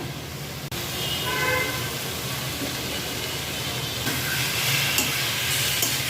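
Fried potatoes stirred into a banana flower and prawn curry in a pan, a steady hissing sizzle with soft stirring and scraping, close and continuous with no talk.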